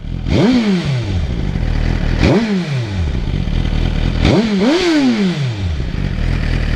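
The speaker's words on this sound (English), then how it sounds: "Give you guys a couple revs of this Yoshimura exhaust." A warmed-up 2023 Suzuki GSX-R1000 with a Yoshimura exhaust revs hard close by, three sharp throttle blips rising and falling, the last two in quick succession, over a steady idle.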